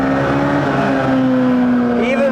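A Honda K20 engine swapped into the middle of a Toyota MR-S revs with a loud, steady, close-up drone, its pitch climbing slightly near the end.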